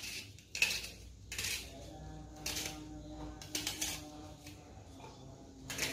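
Onion pieces are dropped into a mixer-grinder jar in a quiet kitchen, heard as a few soft, separate clinks and knocks with short pauses between them.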